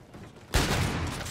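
Gunfire in the Call of Duty Infinite Warfare video game, a sudden loud burst of shots that breaks in midway and rumbles on to the end of the brief moment.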